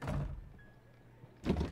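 A door in the Sherlock Holmes: Crimes & Punishments video game closes with a soft thud, then goes quiet before a second, heavier knock as it is blocked shut.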